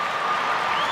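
A crowd at the Westminster dog show applauds in the toy group ring, a dense, even wash of clapping that holds steady without letting up.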